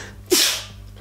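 A single sharp sneeze bursts out suddenly, close and loud, then fades quickly into quiet room tone.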